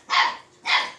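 Dogs barking twice in quick succession, close and loud, with no talk over them.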